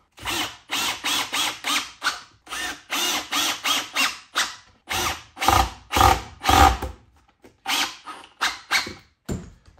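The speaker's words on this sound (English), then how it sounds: "drill a couple of holes through the bottom with some longer screws" A power drill drives long screws into a wooden hose reel in repeated short whirring bursts, loud and close, with pauses between them and a few quick final pulses.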